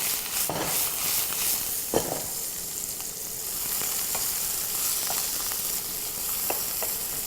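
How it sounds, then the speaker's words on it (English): Shiitake mushrooms fry steadily in a pan, a continuous close sizzle with occasional scraping stirs, no voices. "And just fry it until it's nice and brown."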